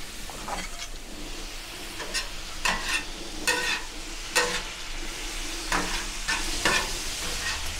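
A patty melt sears on a levelled Pit Boss Ultimate griddle plancha, giving a steady close sizzle with recurring sharp crackle bursts and occasional scraping, no voices.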